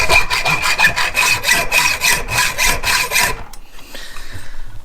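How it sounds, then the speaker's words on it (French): A hand saw cuts through a piece on a Ducati motorcycle, with rapid rhythmic back-and-forth strokes, loud and close, ending abruptly before quieter handling noise. "la scier d'abord"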